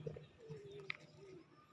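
Pigeons coo softly inside a pigeon house, a few low throaty calls and one short higher note, faint and close in a quiet space.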